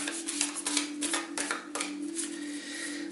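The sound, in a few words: shuffling a deck of animal spirit cards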